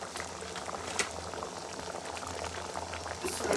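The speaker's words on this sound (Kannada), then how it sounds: "ಚೆನ್ನಾಗಿ ಕುದೀತಿದೆ." Paneer butter masala gravy bubbles in a pan with a soft, continuous, close-up blub and pop of thick sauce simmering on its own.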